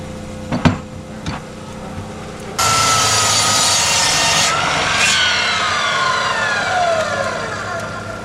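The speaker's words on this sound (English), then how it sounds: "we're going to have to cut these with a chainsaw" Chainsaw cutting wood at a DIY mountainside root cellar build; a few knocks come first, then a loud, sustained, buzzing cut starts abruptly and runs steadily to the end.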